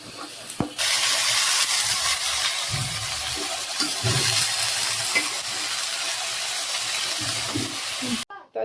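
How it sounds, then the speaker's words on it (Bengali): Onions sizzling in hot oil for potato bhaji in a home kitchen, a loud continuous frying hiss with occasional stirring scrapes, starting abruptly and cutting off near the end. "এই যে পেঁয়াজ ভাজা নিতেছে আলু ভাজির জন্য।"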